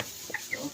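A chicken gives a couple of short, soft clucks close by, spaced apart in an otherwise quiet moment with no talking.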